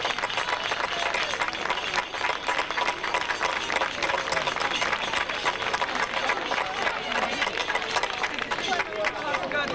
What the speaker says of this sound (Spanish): yo creo que vos pido un aplauso para Alberto